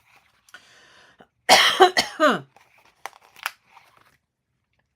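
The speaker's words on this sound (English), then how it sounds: "I'm going to start coughing." A short burst of harsh, throaty coughing in the middle, a few quick hacks close up, with quiet rustling before and after.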